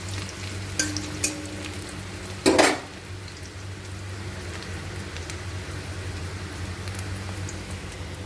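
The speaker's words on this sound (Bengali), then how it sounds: "এবার কড়াইতে তেল দিয়ে কালো জিরে দিয়ে পেঁয়াজটাকে একটু ভাজা ভাজা করে নেব।" Onion fries in oil with black cumin in a wok, a steady close sizzle with a sharp burst of crackling and a few stirring scrapes early on, and no talking.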